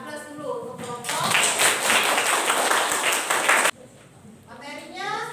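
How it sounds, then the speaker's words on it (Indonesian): Classroom audience applauding a student group, a loud burst of many clapping hands lasting a few seconds and cutting off sharply, with a teacher's voice speaking before and after. "Kita beri aplaus dulu untuk kelompok."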